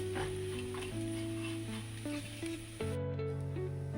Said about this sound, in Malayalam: 1 ടീസ്പൂൺ ജീരകം, 2 ഉണക്കമുളക് ഇട്ടിട്ട് നമുക്ക് വെളിച്ചെണ്ണയിൽ വറുത്ത് കൊണ്ടുവരണം.